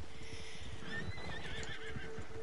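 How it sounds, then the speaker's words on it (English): A horse whinnies and clip-clops in the video game Red Dead Online, with a drawn-out neigh near the middle over soft, uneven hoof thuds on a trail, fairly quiet and close. "So I might use that as a trail horse too."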